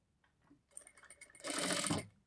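A sewing machine stitching a blouse neck band: soft, close clicks build into a brief, steady whirring run of stitches lasting about half a second, then stop.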